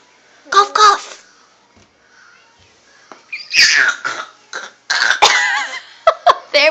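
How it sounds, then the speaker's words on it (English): A young child coughs in short bursts, several times with pauses between them, close and loud, with a bit of small vocal babble mixed in. "There's that cough, cough, cough."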